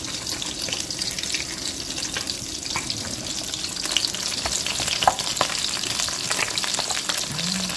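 Fish frying in hot oil, a steady dense sizzle with crackling pops running throughout, close and loud with no talk over it.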